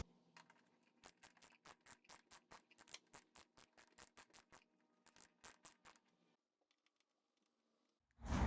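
Socket wrench ratcheting as it loosens a headlight bolt on a 2007–2013 Chevy Silverado: a quick, regular run of sharp clicks, a short pause and a few more, then quiet before a loud thump at the end.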